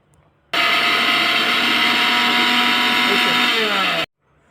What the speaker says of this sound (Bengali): মিক্সিতে তিল আর আলু চাল ভালো করে গুঁড়া করে নিল